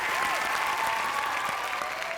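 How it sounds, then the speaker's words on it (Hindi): Sustained, dense studio-audience applause during a Family Fortunes game-show episode, a loud steady wash of clapping that fills the whole stretch without pause. "जोरदार तालियां"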